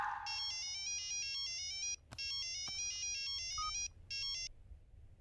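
A telephone ringtone of bright, regular electronic chimes repeats in steady bursts with two brief gaps, sounding clear and fairly close over a quiet background as a call is placed in a domestic film scene.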